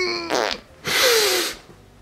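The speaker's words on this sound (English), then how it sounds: "Just one little fart." A loud, close fart sounds twice in an indoor comedy scene, first a short buzzy burst and then a longer raspy blast, with no talk over them.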